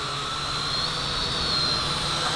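An RC Leading RC109F large FPV quadcopter drone flying overhead, its motors giving a steady, loud, whining buzz that holds constant throughout.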